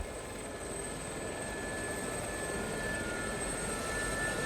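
A Gazelle helicopter idling on a street in the flight simulator DCS, a steady turbine whine and rotor hum with a high pitched tone, constant and close, no voices.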